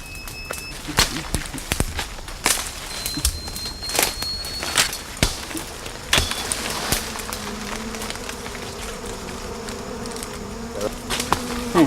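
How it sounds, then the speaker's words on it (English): Sharp, scattered pops and cracks at irregular intervals, wasps bursting as their nest is smoked, over a faint buzzing drone of insects and a low background hum. "That pinging noise is the wasps exploding."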